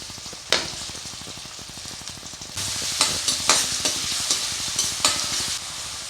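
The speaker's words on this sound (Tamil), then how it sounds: "வெங்காயம் நல்லா வதங்கட்டும்" Chopped onions and garlic sauté in a pan for veg egg noodles, a steady sizzle with repeated sharp scrapes and stirring clatters from a spatula, close and fairly loud throughout, growing busier partway through.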